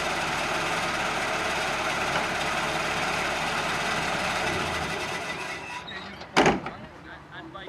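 A Series Land Rover engine runs steadily at tick-over while winching, a dense continuous drone for most of the stretch that eases off near the end, followed by a brief sharp knock.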